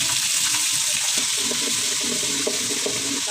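Rice with peas, carrot, onion and bay leaf sizzling in hot oil for a pilaf, a steady close crackling hiss with faint stirring scrapes throughout.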